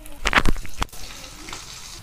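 Cumin seeds, chilli powder and a pinch of asafoetida hit hot oil for a Maharashtrian chole masala tadka, giving a short burst of close crackling sizzle that quickly settles into a softer steady fry.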